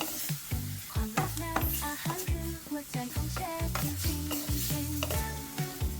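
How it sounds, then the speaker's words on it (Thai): Thai pork sausage is stirred into minced pork larb in a pan, with repeated spatula scrapes and light sizzling throughout, under steady background music. "แล้วก็ตามด้วยหมูยอลงไปครับ เคล้าให้เข้ากันให้หมดเลยนะครับ"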